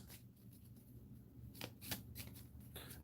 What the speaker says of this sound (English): we have to shuffle these surviving cards